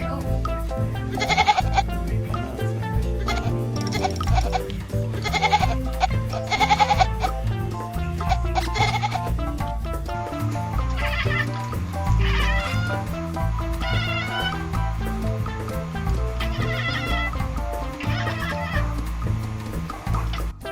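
A cat lets out a run of short, wavering bleats that sound like a baby goat, repeated in quick bursts at moderate loudness with a faint voice now and then.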